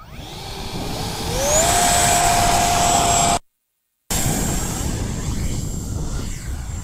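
Arrows Hobby L-39 Albatros RC electric ducted-fan jet at full throttle, a loud steady whine rising in pitch as it climbs away, then holding a high sustained tone with a brief dropout midway.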